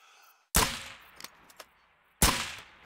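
Two sharp air rifle shots at a coyote in the hunting game Call of the Wild, the first near 0.5 seconds and the second about two seconds later, each with a ringing tail and a few faint clicks between them.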